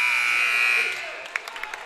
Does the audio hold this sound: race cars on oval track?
no